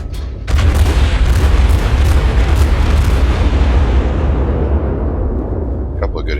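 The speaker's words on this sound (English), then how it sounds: "Might get lucky and hit him a few times. Yep, there's a couple of hits." Naval gunfire in the World of Warships game, a heavy booming blast that swells into a long roaring rumble and slowly fades, loud and dense, with a few sharp crackles toward the end.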